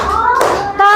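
Children clapping hands in a classroom in a counted clapping routine, a few sharp close claps mixed with young voices chanting, bright and loud.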